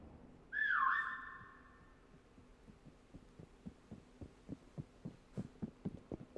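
A single loud whistle taunt rings out in Prop Hunt on Raid, a rising-then-falling tone lasting about a second near the start, followed by a steady run of soft rhythmic thumps under low game hum.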